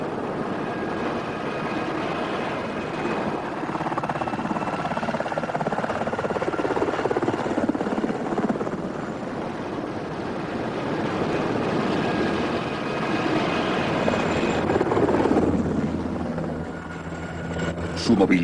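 A modern military helicopter drones steadily with rotor and engine noise throughout, swelling and shifting in pitch as it moves, with a voice talking over parts of it.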